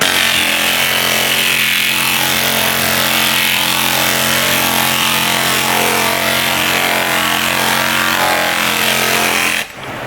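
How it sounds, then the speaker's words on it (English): An Astro Mini 888S air sander works body filler on a 1976 Charger roof, its dense high-pitched pneumatic whir holding loud and steady up close before cutting off at the very end. "Love that sander. It makes quick work of this."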